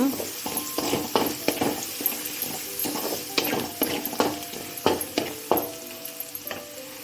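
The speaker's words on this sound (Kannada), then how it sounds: "ಹಾಕೊಂಡು ಚೆನ್ನಾಗಿ ಫ್ರೈ ಮಾಡುವ ಇದು ರುಬ್ಬೋಕ್ಕೆ ಮಸಾಲ ರೆಡಿ ಮಾಡೋದು ನಾನು" Masala spices and onion frying in a pan for a Kannada home-style sprouted green gram dish, with steady sizzling broken by repeated scraping and stirring clinks of a utensil against the pan.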